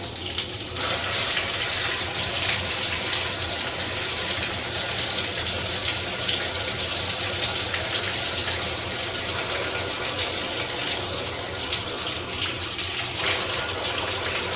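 Water gushing full-on from a bathroom tap onto a newly installed bathtub, loud and constant at close range, a strong unbroken flow throughout.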